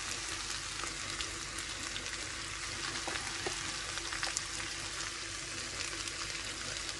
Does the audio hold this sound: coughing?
no